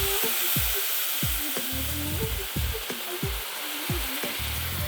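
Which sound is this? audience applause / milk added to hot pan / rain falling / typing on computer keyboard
milk added to hot pan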